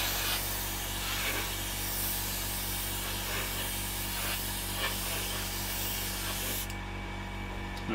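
An airbrush lays down a wet coat of paint in a continuous close hiss, with a few short soft pulses in the spray and no talk, before the hiss drops away near the end.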